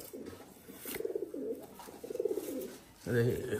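A pigeon coos nearby in repeated soft, throaty rolling phrases, with a louder burst of cooing at the end and no talk over it.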